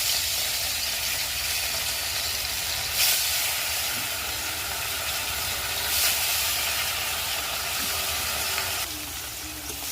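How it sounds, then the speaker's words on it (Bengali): Pieces of rohu fish fry in hot oil in a wok over a village clay stove, a continuous close hiss and sizzle with brief louder spits, no speech. "এবার মাছগুলোকে কড়াইয়ে ছেড়ে দেবো এক এক করে।"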